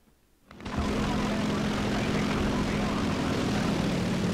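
A propeller warplane engine in War Thunder roars up after a brief quiet start, then holds a steady, loud, dense drone to the end.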